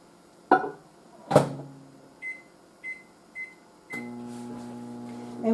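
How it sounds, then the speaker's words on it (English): A microwave oven in a home kitchen heating food: a couple of door clunks, a run of short keypad beeps, then the steady hum of the oven starting up and running on its own. "Let's go put this in the microwave."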